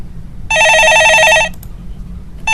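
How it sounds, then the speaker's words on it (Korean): A telephone rings on a Korean stock-market call-in show: one loud, steady warbling ring burst of about a second, then quiet, with a second ring starting at the very end. No talking. "네, 전화 받아보겠습니다."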